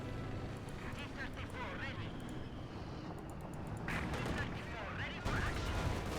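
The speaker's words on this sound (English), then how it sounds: "Shot there from the Panther and T-34" Tank cannon fire from a Panther and a T-34 in the Company of Heroes 2 battle game, sharp booms and crackling gunfire bursts sounding over a dense battlefield din, with a voice talking throughout.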